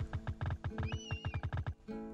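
A horse in the western video game Westerado neighs with a rising, shaky whinny over steady, rhythmic clip-clop hoofbeats, all close and loud, with game music or effects underneath.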